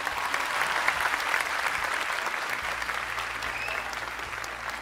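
Steady, dense applause from a studio audience for a team on a Turkish TV singing competition quarter-final, sustained and fairly loud throughout with no break.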